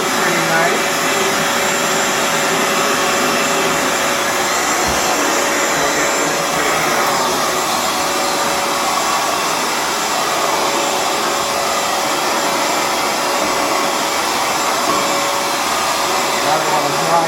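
Hoover FloorMate Edge floor cleaner running across a wood floor, a loud steady motor and suction whir with constant airy broadband hiss that holds unchanged throughout.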